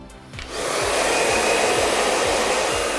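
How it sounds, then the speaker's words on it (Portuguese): A hair dryer blows steadily while styling a fringe, a loud close whoosh of air that starts softly and swells to a continuous, even roar with no talking. "com o secador, vou dar uma ajeitada na franja"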